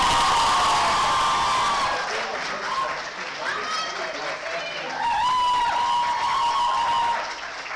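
Students at a college award ceremony cheer and whoop loudly over steady applause, the crowd noise swelling and dipping across the stretch with shouts rising above it.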